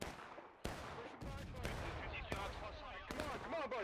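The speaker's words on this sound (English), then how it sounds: "There's Wilkes shooting him in the back." Rifle gunfire in War of Rights, a large American Civil War multiplayer battle: repeated sharp musket shots crack near and far over a dense din of battle noise, with no clear speech.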